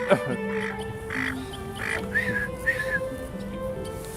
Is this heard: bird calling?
yes